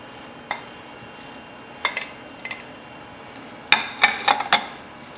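A metal spoon stirs carrots, celery and parsley into a pot of hamburger and cabbage soup. It makes scattered clinks and scrapes against the pot, ending in a quick cluster of bright metallic taps over a low kitchen hum.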